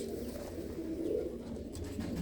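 Several kept pigeons coo together from a loft in a dense, unbroken rumbling drone, near and even in level for the whole moment.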